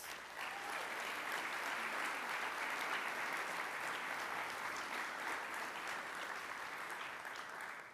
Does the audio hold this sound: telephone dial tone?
no